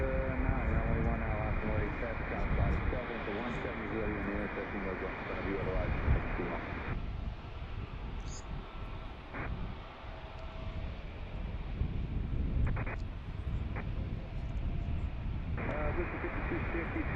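An Alaska Airlines jet departs for Portland from an airport, producing a loud sustained engine roar that fills the whole stretch, with wind buffeting and a person talking over it.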